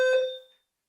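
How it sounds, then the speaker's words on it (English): A fire alarm under test gives one short electronic beep, bright and tonal with ringing overtones, sounding alone and fading out within about half a second. "They're testing the alarms at your house"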